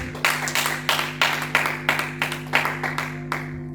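A church congregation applauding in steady rhythmic unison, about a dozen crisp claps at an even beat, close and loud, over a sustained low organ or keyboard drone.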